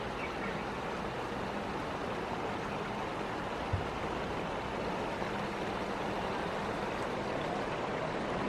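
Banias spring water at Caesarea Philippi, at the foot of Mount Hermon, flows in a steady, even rush, heard close and alone as a constant broad hiss with no pauses.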